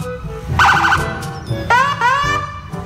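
Toy police car siren wailing in rising and falling electronic tones, loud and close, with a brief chirping pattern before longer sweeping wails, alone without talk.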